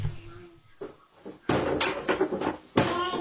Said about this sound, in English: The wardrobe door in the background starts to open and close on its own